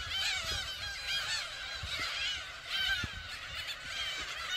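A breeding colony of black-tailed gulls calls continuously on an island, a dense chorus of high, mewing cat-like cries overlapping from many birds, moderately distant with faint background rumble.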